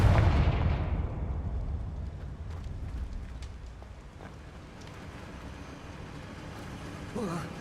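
A Confringo fire spell in Hogwarts Legacy on PS5 bursts with a loud, deep boom at the start and fades into a long rumbling, windy decay, with a faint voice in the background.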